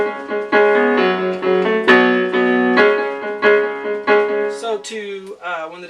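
Piano playing a song's guitar riff, struck chords with octaves in a steady driving rhythm, then a descending line from high E down to B, loud and close with no talking.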